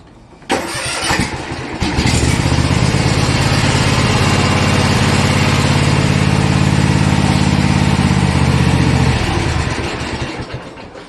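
Cub Cadet ZT1 zero-turn lawn mower engine cranks and catches, then runs steadily at a loud, close idle for about seven seconds before winding down.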